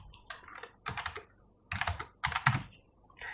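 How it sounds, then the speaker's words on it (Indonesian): Computer keyboard typing while entering data into a Microsoft Excel spreadsheet, bursts of quick close key clatter in several short clusters separated by brief pauses, with no talking. "Bapak akan ketik dulu"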